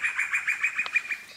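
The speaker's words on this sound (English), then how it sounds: "Birds are going a bit crazy this morning." Small birds in a garden on a morning give a rapid series of close, bright chirps and tweets in a quick, uneven rhythm, with no other sounds.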